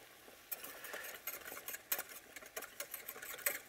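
A whisk beats lemon juice and unsalted butter, seasoned with salt and cracked pepper, into a warm emulsion, making quick, soft rhythmic scraping and clicking strokes against a pan, close and fairly quiet.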